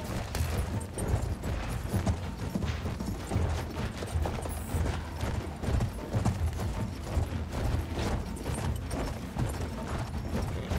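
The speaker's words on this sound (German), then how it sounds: "Lauf, Pferd." Rapid, continuous hoofbeats of a galloping horse in Battlefield 1, loud and close, with clattering mechanical noises mixed in.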